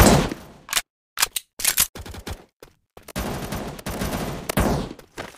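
Bursts of rapid automatic gunfire from a MaskGuns first-person shooting game, loud and close, coming in short separated volleys with brief silences between, then a longer sustained stretch of firing.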